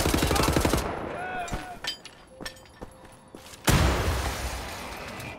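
Heavy weapon fire in Wolfenstein: The New Order opens with a fast rapid-fire burst, then scattered loud shots and impacts with clinks, ending in a long roaring volley.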